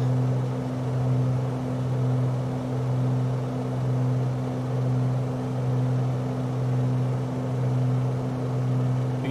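Steady, loud propeller-aircraft engine drone in Microsoft Flight Simulator 2020, a constant low hum with a faint slow pulsing and no voices over it.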